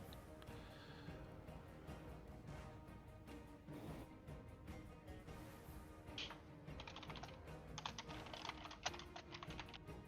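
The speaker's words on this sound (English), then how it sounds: "Are you typing to me?" Faint typing on a computer keyboard during an online tabletop role-playing game session, a quiet run of irregular key clicks over a low background hum that grows busier toward the end.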